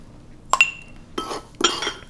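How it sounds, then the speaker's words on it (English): A homemade seasoning blend of dried herbs and pepper spooned into a glass jar: three short bursts of clinking and rattling against glass with quiet pauses between, close and alone. "And then just fill your jar."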